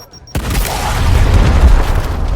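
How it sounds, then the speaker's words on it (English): A frag grenade blasts in the Gears Tactics video game: after a brief quiet moment, one loud, close, booming explosion hits, then rumbles on as a low roar until the end. "Throwing frag!"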